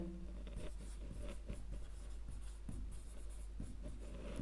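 Pen scratching out a math solution by hand on paper, close and quiet, in a series of short strokes with brief pauses between them.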